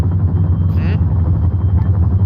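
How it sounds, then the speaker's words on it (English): A Chinook helicopter in a military video game gives a loud, steady, droning rotor rumble throughout, with a voice talking over it. "I have helicopter noises everywhere"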